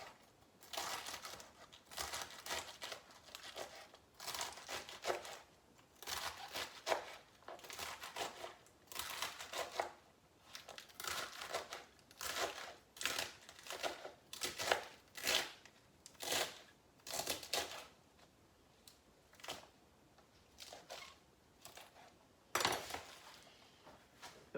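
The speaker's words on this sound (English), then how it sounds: "we're gonna do a chop" Garden Swiss chard leaves, rolled over and chopped with a knife on a board, give irregular bursts of quick, crisp cuts, close but fairly soft, with no talking.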